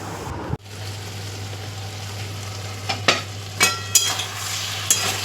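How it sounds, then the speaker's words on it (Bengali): Chopped vegetables for a Bengali malabar spinach curry sizzle steadily in a pan while a spatula stirs them, adding occasional scraping clacks against the metal over a constant low hum, with no speech. "জল দেবো না, কারণ সবজির জলেই হয়ে যাবে। নাড়তে নাড়তেই কতটা কমে গেছে দেখেছেন।"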